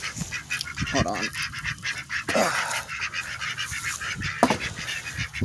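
Ducks quack and honk in loud, overlapping calls close by, with a rough, busy barnyard clamor and a few sharper squawks punctuating the flock's noise.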